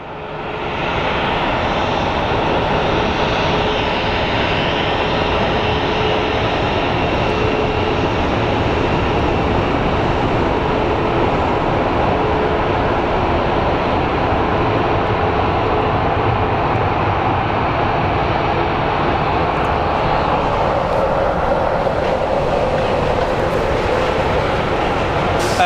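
Airliners taxiing at Phoenix Sky Harbor airport, a steady loud jet engine whine and rumble holding for the whole stretch, fairly close and without talk.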